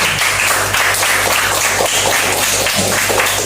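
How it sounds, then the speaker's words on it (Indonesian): Children in a fifth-grade classroom applaud together, a dense, steady patter of clapping that runs throughout with no voices over it. "Tepuk tangan."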